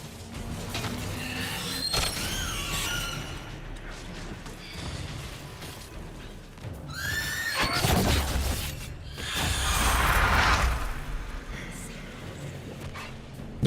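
Otherworldly rift ambience from the Dragon Age Inquisition video game, with creaking, shattering crackles and a low rumbling swell that rises and falls over the scene.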